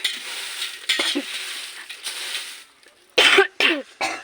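Harsh coughing fits from a person choking on fumes of chillies being roasted, several sharp loud coughs near the end after a stretch of faint sizzling and scraping.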